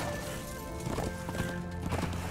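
Horse hooves clip-clopping in quick rhythm with a brief whinny in Darksiders II, heard over a continuous game music and ambience bed.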